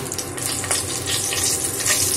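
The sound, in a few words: dry red chillies frying in mustard oil for tempering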